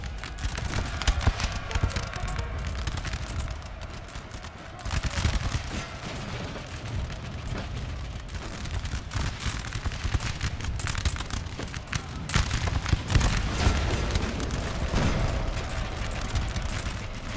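Musket volleys crackle in a Napoleonic-era Total War battle, a dense, continuous roar of massed gunfire with cavalry hoofbeats mixed in, steady and loud throughout.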